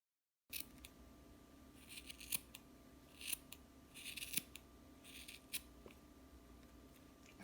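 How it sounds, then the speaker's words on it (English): Scissors snip around a yarn pom-pom on a Clover pom-pom maker, giving a series of close, crisp cuts in irregular bursts, with a faint steady hum underneath. "I'm just going to go ahead and cut around"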